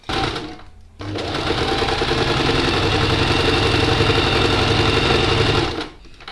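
A sewing machine stitches a 1 cm seam on a garment top, a brief whir and pause, then a steady fast mechanical hum with rapid needle rhythm for several seconds before stopping, close and loud.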